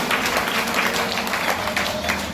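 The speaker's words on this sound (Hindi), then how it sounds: "कम से कम आप लोग ताली तो बजाते हैं।" An audience at a Bhagavat Katha religious gathering breaks into sustained applause, a dense wash of many hands clapping at moderate loudness from across the hall.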